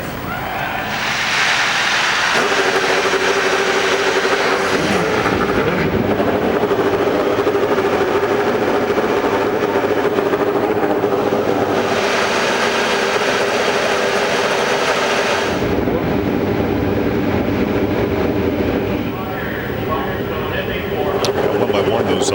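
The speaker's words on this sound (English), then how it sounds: "One by one, those Hondas fire to life." Honda-powered IndyCars start up one after another on the grid of the 2007 Firestone Indy 400, a loud steady engine drone with rising swells, under ongoing commentary.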